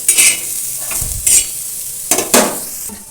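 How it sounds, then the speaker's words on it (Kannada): Bitter gourd fries in a pan while a spatula stirs it, with scraping strokes over a steady close sizzle in several bursts. "ಇವಾಗ ಫುಲ್ ಫ್ರೈ ಆಯಿತು"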